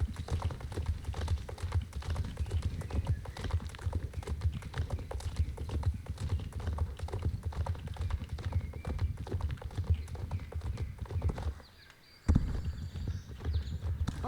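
Horses at a stable keeping three breeds, among them the Hanoverian, move with a steady patter of close hoof clip-clops over continuous rustling, with a brief drop to near silence before the sound resumes.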